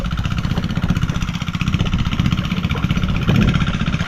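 A small engine starts up and runs at a steady idle with a rapid, even putter, close by and continuous throughout, with no voices over it.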